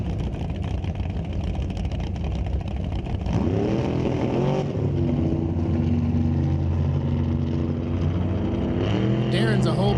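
Drag race cars, a Ford Probe and a '77 Vega wagon, roar loudly at an NHRA Canadian SPORTSnationals qualifying session, engines revving and shifting pitch across the run while an announcer talks over the din.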